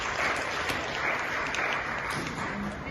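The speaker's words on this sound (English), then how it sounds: "So give yourself a round of applause." An audience at a talk gives itself a round of applause, a dense, steady patter of clapping from a crowd heard throughout.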